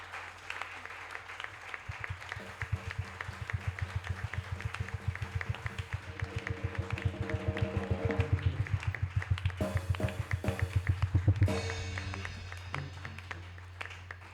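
Church congregation clapping and acclaiming God during a Sunday worship service, with loud rhythmic applause building steadily over a low sustained musical drone, and cheering voices rising toward the end.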